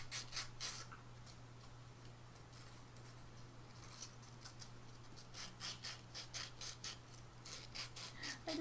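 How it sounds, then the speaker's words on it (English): Hand sanding on a craft project, a faint series of quick scratchy rubbing strokes in irregular bursts over a low steady hum, no talking. "I'm getting so tired of sanding this thing"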